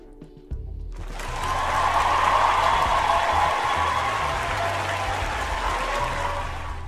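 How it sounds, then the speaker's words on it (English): A round of applause from a studio audience during a dating talk show, sustained clapping that swells after a brief quiet start and holds steady, fairly loud and close, tapering slightly at the end. "Ma'am, you get a round of applause."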